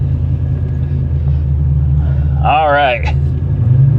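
Chevrolet Monte Carlo SS engine idling with a steady low rumble as the car is moved, a voice briefly speaking over it.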